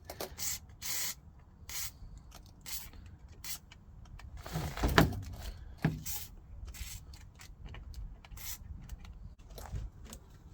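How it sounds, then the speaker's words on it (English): Short bursts of WD-40 aerosol spray hiss repeat in quick succession, with a metallic clunk and scraping in the middle, close and fairly loud, while working on a Mercedes A-Class W168 handbrake cable. "I'll be spraying some WD-40 on it."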